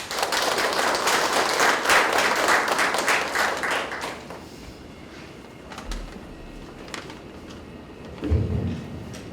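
An audience applauds at a launch ceremony, with loud, dense clapping for about four seconds that then tapers into scattered claps and room noise, ending with a low thump.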